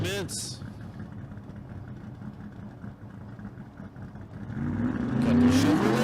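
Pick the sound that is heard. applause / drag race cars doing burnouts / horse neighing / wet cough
drag race cars doing burnouts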